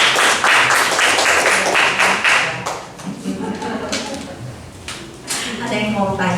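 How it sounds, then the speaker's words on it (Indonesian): A small audience at a Bible course on Zechariah and Malachi gives the pastor a short burst of clapping, with sharp, close hand claps for a few seconds that then fade into scattered taps and voices speaking. "Kita mau beri tepuk tangan lagi"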